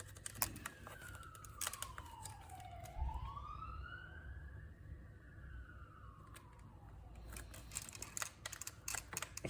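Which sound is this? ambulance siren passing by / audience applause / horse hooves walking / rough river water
ambulance siren passing by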